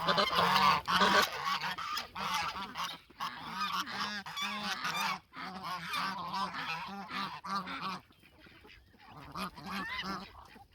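Geese at a small farm keeping chickens, ducklings and goats honk loudly and repeatedly in overlapping bursts, a near and persistent chorus that thins out toward the end.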